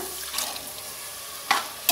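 Boiled kabuli chickpeas with a little water tipped into a hot pan for chana pulao give a soft frying hiss, then two sharp wet splashing bursts near the end.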